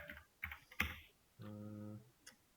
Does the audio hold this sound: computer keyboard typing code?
yes